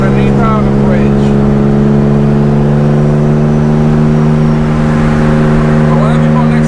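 A BMW with a full race diffuser drones loud and close under a bridge, its steady engine note echoing off the concrete as it rolls and revs. Faint voices sit under the engine.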